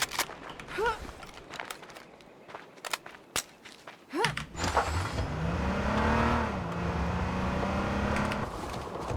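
Car engine in the video game H1Z1, revving up and holding a steady drone that rises and dips in pitch for several seconds after scattered clicks, footsteps and impacts, loud and close.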